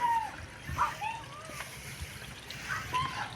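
Bore well water pours steadily into a dirty village pond, a continuous close splashing and sloshing, with someone talking over it.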